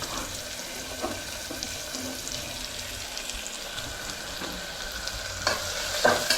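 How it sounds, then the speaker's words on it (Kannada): Onions sizzle in oil in a pan while being stirred continuously, a close, steady frying hiss with scraping strokes and a slight watery crackle, growing a little louder near the end, with no speech. "ಎಲ್ಲ ಈರುಳ್ಳಿ ಹಾಕಿ ಅದು ಸ್ವಲ್ಪ ರೆಡ್ ಆಗೋ ತನಕ ಎಣ್ಣೆಯಲ್ಲಿ ಹೀಗೆ ಮಾಡ್ತಿರ್ಬೇಕು"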